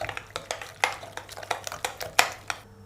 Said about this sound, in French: On mélange le tout et on finit avec l'œuf.